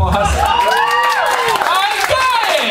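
A comedy club audience cheers and whoops with scattered clapping, rising and falling voices filling the room in a lively burst of crowd noise.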